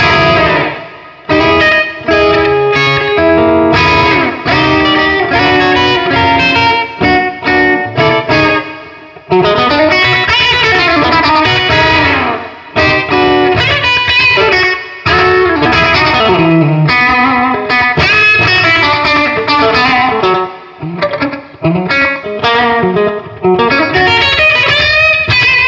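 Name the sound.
electric guitar through Fender Bassbreaker 15 amp with slapback delay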